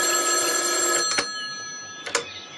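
Telephone bell ringing in a soap-opera office scene, two distinct bursts about a second apart over a quiet steady background, close and clear.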